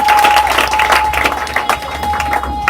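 A church congregation at an evening worship seminar applauds, producing dense, sustained clapping throughout at a loud, close level, with a faint steady tone beneath.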